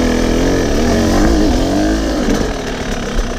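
A hard enduro dirt bike engine holds a steady, low idle-like drone through a pivot turn on a side hill, with a gentle dip in pitch and no hard revving, loud and close throughout.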